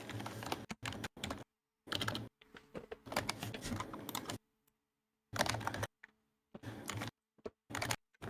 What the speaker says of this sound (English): I hear you're typing.